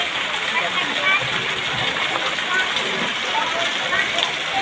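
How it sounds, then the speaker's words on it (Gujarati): Heavy rain pours steadily outside a house in Patan, a dense, even hiss of water on surfaces that fills the scene without pause. "આજે ભારે વરસાદ છે"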